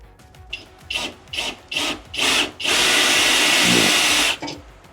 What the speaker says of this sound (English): Now I gotta drill out the next one